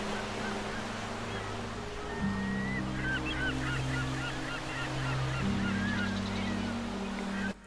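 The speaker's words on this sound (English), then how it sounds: "We might want something like maybe some seagulls in there for that first one." Seagull calls added as a stock sound effect over a steady wash of background noise, with a few faint high cries scattered through the clip alongside sustained low tones.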